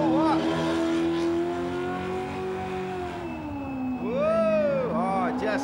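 Car doing a burnout at the Summernats burnout eliminations, its engine revving hard and loud with wavering pitch and sharp rising rev sweeps near the end, with tire noise and excited commentary over it.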